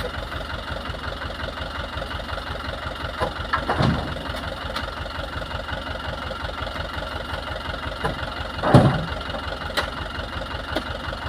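A motorcycle engine idles steadily and close by with an even, pulsing chug that runs throughout, marked by two brief louder knocks along the way.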